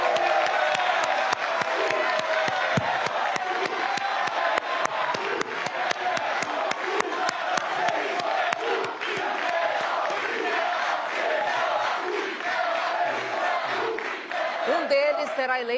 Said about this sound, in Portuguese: Vamos receber com uma salva de palmas os dois candidatos, Marcelo Crivella, do PRB, e Marcelo Freixo,